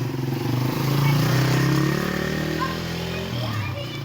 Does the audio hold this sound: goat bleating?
no